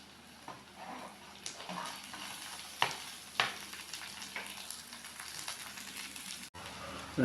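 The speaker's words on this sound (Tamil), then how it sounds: "எண்ணெய் காஞ்ச உடனே வெங்காயத்தையும் பச்சை மிளகாயும் சேர்த்து கொஞ்சம் வதக்கிக்கலாம்" Onions and green chillies sautéing in hot oil in a kadai for a Chettinad tomato and moong dal side dish, giving a steady soft sizzle with a few sharp stirring scrapes, close and without talk.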